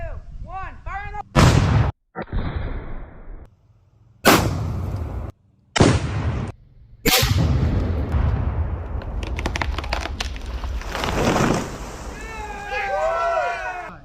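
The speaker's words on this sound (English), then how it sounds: "1 pound of Tannerite versus a dead pine tree. Let's see what happens. 3, 2, 1, fire in the hole!" One pound of Tannerite detonating against a dead pine tree in rural Maine, several sharp, very loud blasts with echoing rumble, separated by pauses, and people talking and cheering in between.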